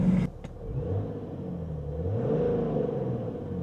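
A BMW X5 turbo-diesel engine running, a steady low rumble with a brief louder burst at the start, heard from close by inside the car, with no talking.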